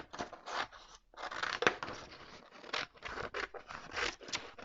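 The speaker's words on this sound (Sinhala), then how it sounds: "දැන් මේකට ඔයගලන්ට පුළුවන් මැහුම් වාසි තියලා කපා ගන්න." Scissors cut through dress fabric for a princess-line dress with close, crisp snips and rasping slides, arriving in quick irregular bursts broken by short pauses.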